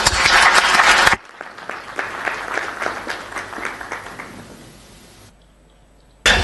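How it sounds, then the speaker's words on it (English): An audience claps in steady applause that gradually thins and fades out, with a louder burst of sound at the start and end. "Please give them an applause."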